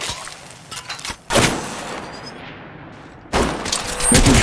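Bursts of automatic gunfire from the mobile battle royale game Apex Legends Mobile, loud and close: a few short shots early, then a dense sustained burst, a pause, and another heavy burst to the end, with no talk.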